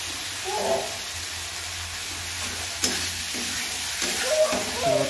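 Masala for chhole sizzles and fries in a pan, a soft steady crackle with occasional stirring scrapes and light clatter, fairly quiet with no talking.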